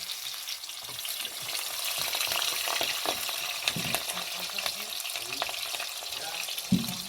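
Onions frying in hot oil in a home kitchen during pork curry prep, a continuous soft sizzle with scattered crackles and pops, heard alone at close range.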